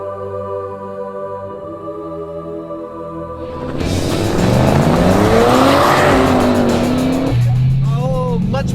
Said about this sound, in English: Much better launch that time, a little bit of wheel spin.